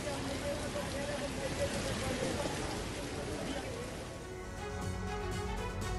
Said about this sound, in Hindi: लगातार बारिश ने लोगों की परेशानी बढ़ा दी है।